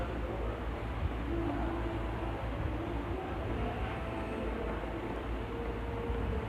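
A train in Batman: The Telltale Series rumbles on with a steady low roar and faint tonal hum, continuous and fairly loud throughout.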